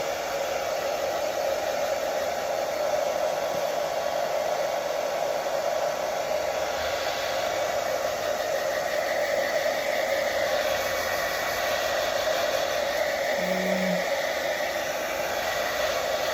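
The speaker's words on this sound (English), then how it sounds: "I'm just going to dry that now, so excuse the hairdryer." A hair dryer blows with a steady, loud whooshing drone that runs unbroken from start to finish, with no voices over it.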